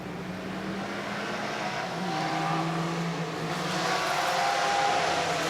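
Vintage race cars at a road-racing event, including a white Austin Healey with blue stripes, passing with a continuous engine roar that swells gradually louder toward the end, no talking.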